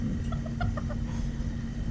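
A bantam chicken (ayam kate) gives a short series of soft, quick clucks over a steady low background hum, heard at moderate distance.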